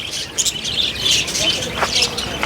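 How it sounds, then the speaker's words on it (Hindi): Several species of colourful birds chirp and tweet at a cow shelter in Nagaur, a busy cluster of bright calls near and far, with faint voices in the background. "रंग बिरंगे यहाँ पर अलग अलग प्रजाति की चिड़ियाएँ हैं"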